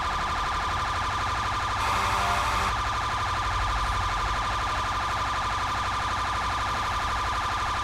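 An emergency vehicle siren in the GTA game world wails loudly and continuously, with a brief burst of louder noise partway through.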